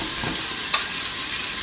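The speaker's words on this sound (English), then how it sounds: "I'll put the abalone in. That's what I want. I want it nice and hot. We're going to saute that off quickly." Abalone sautéing quickly in very hot sesame oil gives a steady, close sizzle that fills the whole short stretch with no voices over it.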